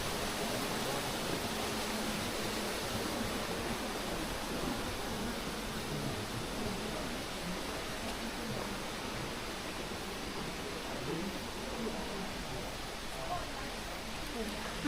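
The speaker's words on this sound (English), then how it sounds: "it just brings you down to that waterfall" Steady broadband roar of a waterfall near a small cave outside Fukuoka, Japan, constant and close, filling the whole stretch without pause.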